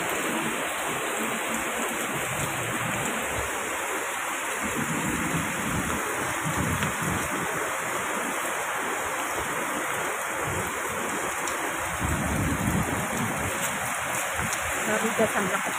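Heavy rain pours steadily in a dense, continuous roar, close and loud throughout with no breaks.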